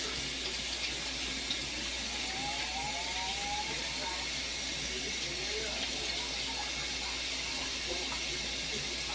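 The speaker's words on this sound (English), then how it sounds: "Wash my hands." Hands are washed under a running kitchen tap before cornbread is made, a steady, even hiss of flowing water that runs unbroken throughout.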